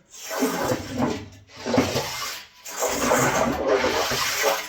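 Water swishes and gurgles inside wet drilled blast holes in a gold mine, heard as three close rushing, broadband bursts separated by short quiet gaps.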